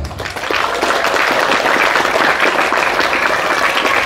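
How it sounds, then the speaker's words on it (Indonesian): A crowd at an Islamic boarding school graduation and anniversary gathering breaks into loud, sustained applause that swells quickly and holds as a dense wash of clapping. "tepuk tangan untuk Miftahus Salam"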